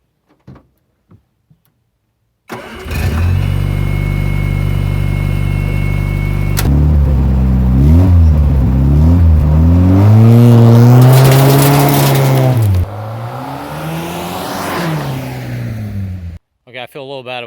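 An MG Midget starts after a few clicks and near silence: the engine catches and settles into a loud, close idle, then revs up and down repeatedly before easing to a lower drone as it pulls away.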